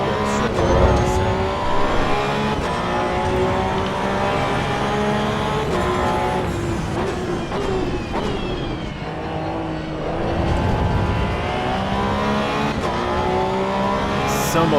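A Porsche 911 laps Bathurst flat out in Assetto Corsa EVO, its engine revving loudly and continuously with rising and falling pitch through gear changes, plus brief tire squeal.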